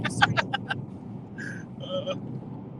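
A car on a road trip drives along with a steady low road-and-engine rumble throughout, broken early by a few quick clicks and two short high tones.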